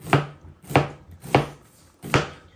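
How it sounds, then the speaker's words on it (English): Large onions being sliced into thin strips with a knife on a board, four crisp, evenly spaced cuts close up, with a quiet pause between each. "I want my onions to be like skinny little lines. So what I'm gonna do is I'm just going to cut it like so."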